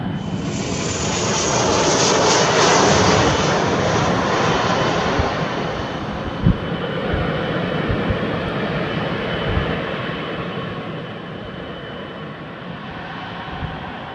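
An aircraft lands on an airport runway with a loud, broad roar that swells, then slowly eases. A single dull thump sounds partway through, and no voices are heard.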